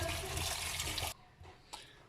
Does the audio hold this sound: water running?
yes